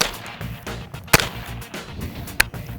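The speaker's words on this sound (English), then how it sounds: "Lock the weapon and keep firing." Gunfire from a handgun at an Israeli shooting range: two sharp reports about a second apart, each a loud crack standing out over steady background noise.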